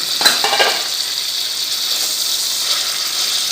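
Goat liver fries in a pan, a steady soft sizzle with a couple of brief clinks or stirs near the start, close and alone without talk.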